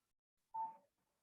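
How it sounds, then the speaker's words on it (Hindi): A single short electronic phone beep, like an incoming call signal, sounds once clearly in near silence, lasting about a third of a second. "एक मिनट ना, उन्हीं का फोन आया जरा"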